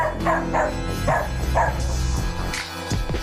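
A dog barks in a home as a dog walker arrives, several yips and bow-wows spaced about half a second apart over a steady background hum.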